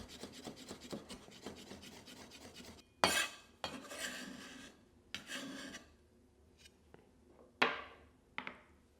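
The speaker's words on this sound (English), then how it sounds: "Finely chop your garlic." A knife chops garlic finely on a board in a wok cooking lesson. A quick run of soft rhythmic taps comes first, then a few louder, separate scraping strokes with short pauses between them, close by and with no talking.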